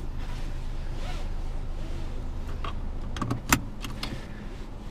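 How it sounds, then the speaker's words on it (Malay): A seat belt being put on inside a Nissan Almera, rustling strap movement followed by a sharp metallic buckle click near the end, heard close in a quiet cabin. "Sebelum tu saya nak pakai seat belt dulu"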